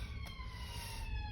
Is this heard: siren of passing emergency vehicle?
yes